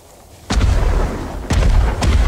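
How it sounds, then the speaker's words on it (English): Fireworks explode in the Ghost of Tsushima video game, three loud booming bursts about a second apart over a dense rumbling battle backdrop. "All fireworks! On all sides!"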